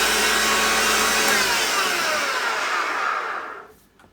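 The motor of a Hoover Junior Dirtsearcher vacuum cleaner runs with a loud, dry, rough whine, then spins down and cuts out near the end.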